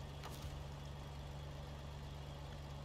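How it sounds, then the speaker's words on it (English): A generator runs steadily in SnowRunner, a continuous low engine drone with a constant hum and no variation across the clip. "the fan is spinning, the generator's running."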